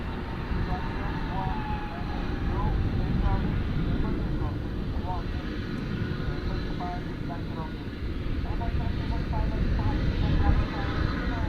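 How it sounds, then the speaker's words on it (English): At a busy international airport, a UPS MD-11 cargo jet passes as a steady, broad, distant roar, while people keep talking over it throughout. "There's that UPS sneaking by there, the MD-11."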